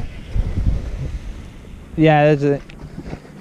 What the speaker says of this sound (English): I have a slight wind up my back.